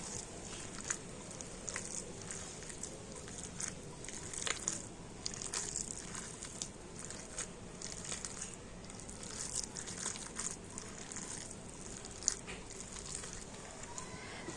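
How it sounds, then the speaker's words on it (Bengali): Flattened rice (chira) is mixed into sour yogurt by hand, making a soft, continuous squelching and crunching texture close up, with faint small clicks scattered through. "তো এবার আমি চিড়ে আর টক দইটা একটু ভালো করে মিশিয়ে নেবো"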